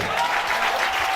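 A church congregation applauds in a dense, steady wash of clapping that fills the room for a moment.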